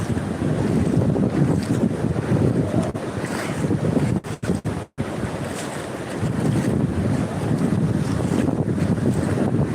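Strong, continuous wind roars across the microphone at Muchchalampalem beach, with surf washing underneath. The gusts cut out briefly midway, then the buffeting returns at full strength, and no one speaks.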